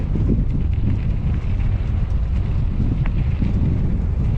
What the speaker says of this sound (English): there's that nice breeze